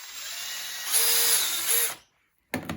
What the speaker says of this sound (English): So I'm just going to drill a hole through the middle of that.